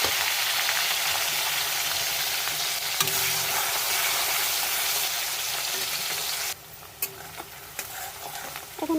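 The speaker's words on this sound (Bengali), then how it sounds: "এখানে পেঁয়াজটা একটু ভাজা হয়ে গেছে" Onions frying in hot oil with whole garam masala and bay leaves for chicken dum biryani, a steady dense sizzle with occasional stirring scrapes, dropping quieter near the end.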